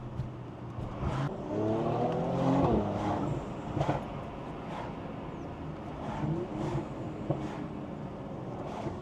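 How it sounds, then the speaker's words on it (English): Mercedes C43 AMG fitted with an MST intake, its engine revving loudly with crackling pops and bangs over a continuous rumbling drone, close and sustained. "I think there's more pops and bangs than there was before"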